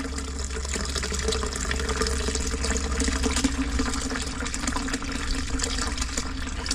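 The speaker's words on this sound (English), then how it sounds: "Not a very powerful flush." Toilet being flushed in a blocked drain job, a steady loud rush of water running continuously throughout with a low rumbling underneath, rather weak and even without a strong surge.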